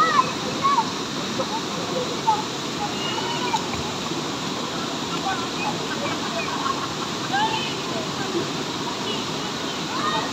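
Taytay Falls in Majayjay pours in a loud, continuous roar of falling water and splashing, close and steady throughout, with voices briefly audible underneath.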